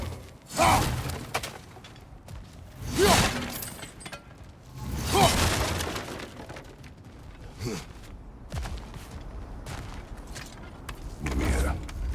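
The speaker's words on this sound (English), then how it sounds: "back to smashing through things for fun and profit" Breakable objects being smashed in God of War Ragnarök, several separate crashing, shattering bursts spaced a couple of seconds apart, with creaks and thuds between them.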